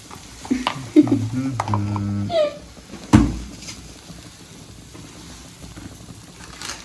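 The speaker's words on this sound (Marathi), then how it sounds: "परतून घ्यायचे आता मसाल्याची" Masala sizzles softly in a pan as it is sautéed for egg curry, with the clank and scrape of stirring and a sharp knock midway, while voices talk in the background.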